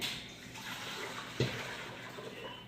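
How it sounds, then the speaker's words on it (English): Water runs steadily into a cooking pot with a soft, continuous splashing trickle and one brief louder splash midway, no voices. "what I'm going to need is some water"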